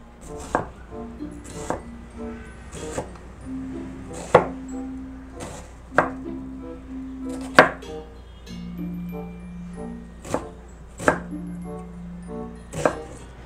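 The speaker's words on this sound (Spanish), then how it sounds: "Cortando cebolla no soy tan mala porque ya tengo experiencia." A knife chops onion on a board for an Ecuadorian recipe, with sharp regular thuds spaced about a second apart, close and clear, and no talking over it.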